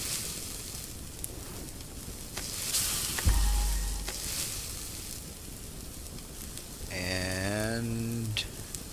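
Food sizzles and crackles on the heat while cooking in the survival game Subsistence, a soft, steady frying hiss with a few sharper pops. A person speaks briefly near the end.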